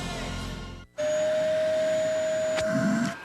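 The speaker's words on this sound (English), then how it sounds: "When your vacuum cleaner loses suction, your first instinct is to shake or hit it to unblock the clog." A vacuum cleaner runs loud and steady with a high, even whine and broad airflow roar, briefly cutting out near the start before resuming without pause.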